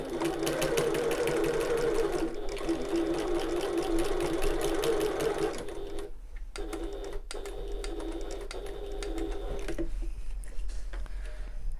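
A sewing machine stitches through a bag lining over chunky, bulky seams, running in a fast steady whir for several seconds, pausing, then starting again in shorter bursts close up.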